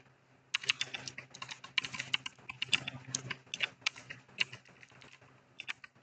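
Fast, irregular clicking of keys being typed on a computer keyboard, close and fairly quiet, with no talking.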